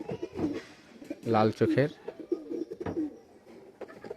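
Pigeons in an elder brother's loft, including a red-eyed bird, give soft throaty coos close by, a few rolling bursts heard under someone talking.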